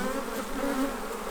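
Honeybees buzz steadily around an opened beehive during hive maintenance, a dense, continuous drone of many insects close by, without talk.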